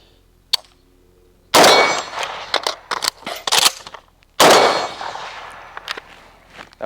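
Rifle shots fired from about 35 to 40 yards at steel targets, including an 8-inch gong: a faint tap, then two loud sharp cracks separated by a pause for a reload. Each shot is followed by ringing, clanging steel and echoing reverberation.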